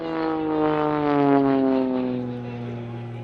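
An Extra 330SC aerobatic airplane flies past at the Sywell 2024 airshow, a strong propeller-engine drone with harmonic tones that swells and then falls slightly in pitch as it recedes, with commentary talk over it.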